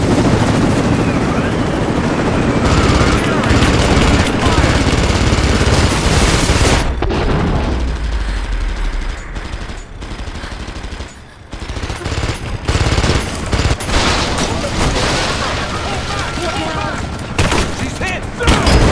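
Dense, loud bursts of automatic gunfire and booming explosions in a Rise of the Tomb Raider firefight, continuous and chaotic, with shouted combat voices in the mix.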